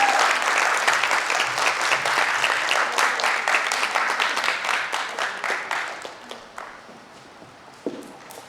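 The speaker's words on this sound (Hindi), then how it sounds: "एक बार जोरदार तालियां उनके लिए।" Enthusiastic audience applause at a theatre performance, dense and sustained clapping that gradually thins out toward the end, leaving a few scattered claps and a late single clap.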